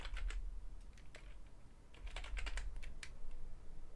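Quick, uneven clatter of typing on a computer keyboard, soft and close, in short bursts of keystrokes with small pauses between them.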